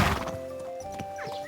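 A horse in the medieval video game Kingdom Come: Deliverance 2 gives a short, loud whinny, with soft hoof and harness noises underneath and no talking.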